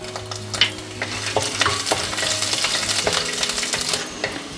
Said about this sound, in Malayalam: ജസ്റ്റ് ഒന്ന് അതിൻ്റെ ഒരു പച്ച ടേസ്റ്റ് ഒന്ന് മാറുന്നതിന് വേണ്ടിയിട്ടാണ് ഇതുപോലെ ഒന്ന് വഴറ്റിയെടുക്കുന്നത്.